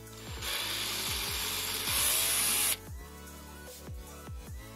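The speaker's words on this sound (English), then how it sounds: "nothing a little drilling can't fix." A power drill bores into a plastic housing to fit an RGB LED for a bathroom electric window opener, giving a loud, steady whirring grind for about two seconds before cutting off, over a rhythmic background beat.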